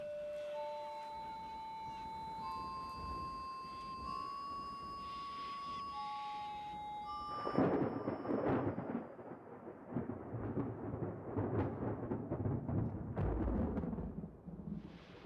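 Faint whistling bird calls over a soft wash, then a heavier rumbling, crackling drought-breaking thunderstorm with rain in Australian budgerigar habitat takes over, rising and falling in loudness.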